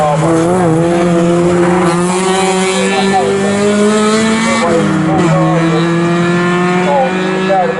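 MG race cars at Snetterton circuit sweeping through a corner onto the straight, engines loud and close with rising and falling revs as they pass, under steady race commentary.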